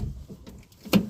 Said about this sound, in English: Oh, where's the door handle? It's right here.